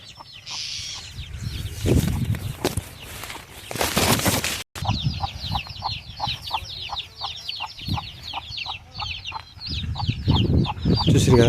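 Jathi breed hens and chicks cluck and peep steadily at close range on a poultry farm, with a few wing flaps and a burst of louder activity partway through.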